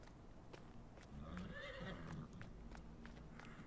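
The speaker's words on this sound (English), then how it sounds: "We've got horses over here as well. We've got 4 of them in there." Horses in a pen on the Fenton Forest farming game map neigh with a bright, distant whinny amid faint hoof clip-clop and steady ambient game noise, with no talk.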